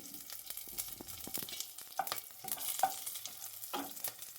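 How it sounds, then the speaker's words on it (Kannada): Mustard seeds, cumin, curry leaves and green chilli frying in a pan, with crackling sizzles and scraping stirs in an uneven rhythm, close but fairly quiet. "ಫಸ್ಟು ಒಂದು ಬಾಣಲಿಗೆ ಸಾಸಿವೆ ಮತ್ತು ಜೀರಿಗೆ ಮತ್ತು ಕರ್ಬೇವಿನ ಸೊಪ್ಪು, ಗ್ರೀನ್ ಚಿಲ್ಲಿನ ಹಾಕ್ಕೊಂಡು ಫ್ರೈ ಮಾಡ್ಕೊಳ್ತಾ ಇದ್ದೀನಿ."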